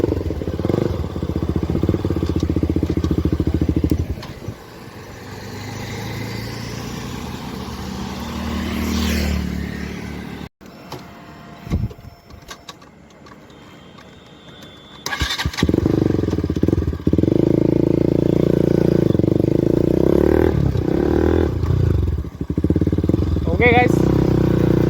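A BS4 KTM RC 200 motorcycle fitted with a loud Akrapovic exhaust, close by, roaring and revving hard in long stretches with a quieter lull in the middle, and voices faintly underneath.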